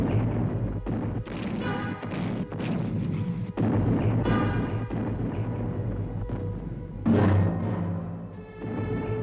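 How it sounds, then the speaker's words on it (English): Archival British artillery bombardment at Arras in the First World War, a dense, continuous roar of distant gunfire with repeated sharp booms and crashes layered throughout. "Already the British bombardment at Arras had begun."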